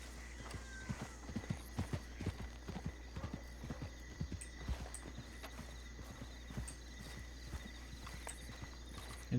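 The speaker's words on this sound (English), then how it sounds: "Oh, there's a horse." Horse hooves clip-clop at a steady walking pace in a Red Dead Redemption 2 roleplay world, close and distinct over a low constant hum, with a brief whinny.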